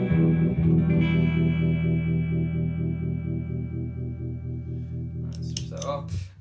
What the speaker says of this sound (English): And then I can add the phase 95 to that. Right now I have this set on phase 45 with script.